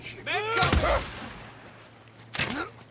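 Gunfire in the video game Days Gone, two sharp loud shots about two seconds apart, each with a short crack and decay, with a brief voice heard near the start.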